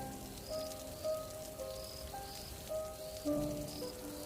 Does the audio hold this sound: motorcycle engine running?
no